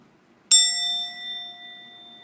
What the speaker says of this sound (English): A ringing, singing bell?